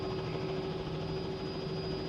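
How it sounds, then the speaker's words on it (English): A helicopter engine drones steadily in a flight simulator game, a constant whining turbine hum with a dense, even rotor wash and no talk. "Okay, anyway, back to flying helicopter."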